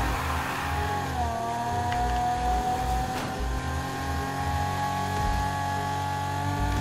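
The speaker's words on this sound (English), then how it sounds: "my car is like redlining trying to get up these hills" A car engine in Need for Speed Heat drones at high revs, holding a strained, buzzing pitch that dips and climbs slightly while climbing hills, continuous and fairly loud.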